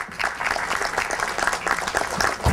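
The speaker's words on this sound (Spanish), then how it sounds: "Un aplauso para los vecinos, por favor." A crowd at a civil defense committee meeting breaks into steady applause, dense clapping that continues evenly throughout.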